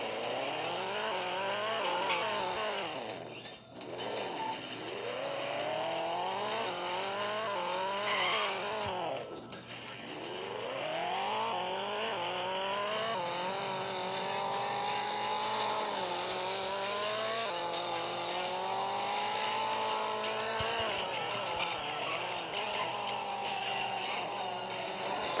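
Engines in the Extreme Car Driving video game rev again and again, pitch climbing through gear shifts with short drops between runs, steady and close, with faint talk in places.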